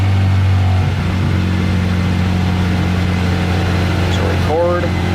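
A turbocharged Honda Civic with a D16 engine runs on a dyno in third gear without VTEC, a loud, steady engine drone holding throughout, with a brief rising whine near the end under a man's speech.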